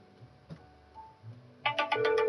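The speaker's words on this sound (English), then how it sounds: "Now it's ringing. Let it ring because it looks like it gets quieter." A phone ringtone starts after a few faint taps and clicks, then rings in a bright, repeating electronic trill, close and clear, with no talk over it.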